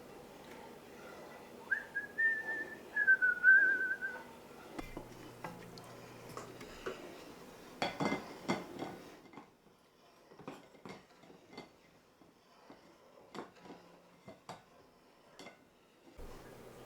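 A spoon scrapes and clinks sparsely against a pot while milk heats for homemade cottage cheese, with soft ticks in a quiet kitchen. Someone whistles a short tune near the start.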